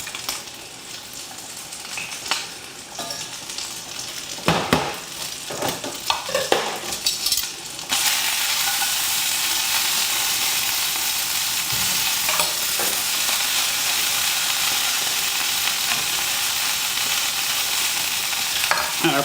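Butter being stirred into drained cooked carrots in a hot pan, with a steady sizzle and close stirring scrapes. Some utensil clatter comes early, then a continuous loud sizzle.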